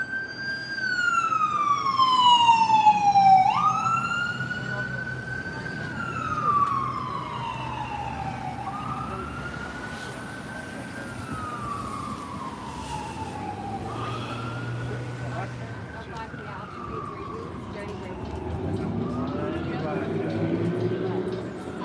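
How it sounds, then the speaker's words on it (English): A wailing emergency siren rises and falls repeatedly, loud and nearby, over city traffic rumble on a Washington DC street, with talk faintly underneath. "They got sirens in DC too, just like New York."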